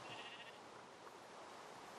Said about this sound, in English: Oh, hello brown sheep.